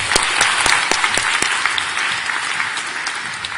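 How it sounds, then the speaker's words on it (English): Audience at a talk breaks into applause, starting with a few sharp individual claps that quickly blend into steady, moderately loud clapping from a room full of people. "So if you just give a little round of applause for Julian."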